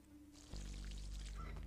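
Water pouring steadily onto plants in a video game, a continuous splashing stream that starts abruptly after a low hum and carries on at close range, with no talk.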